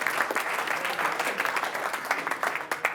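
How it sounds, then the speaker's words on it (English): Steady clapping from a conference audience, continuous and fairly close, with dense overlapping hand claps and no speech. "Round of applause."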